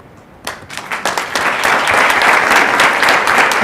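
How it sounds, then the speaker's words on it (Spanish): A crowd at an awards ceremony for an honored journalist breaks into applause, starting with scattered claps and building quickly into loud, sustained clapping close by. "Le damos un fuerte aplauso."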